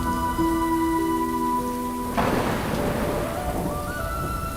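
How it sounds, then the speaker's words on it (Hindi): Steady winter rain pours down loudly, with a dense hiss of drops that thickens midway, joined by low rumbling and sustained tonal hum in the background. "बारिश हो रही है"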